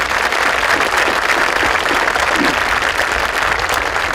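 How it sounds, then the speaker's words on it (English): Steady applause from a large graduation ceremony audience, a dense continuous clatter of clapping hands that fills the whole span at a loud, even level without voices on top. "Let's give these ladies and gentlemen an applause."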